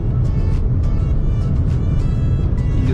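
A small everyday city car driving, a steady, loud low engine and road rumble running throughout with no break, and no voices heard over it.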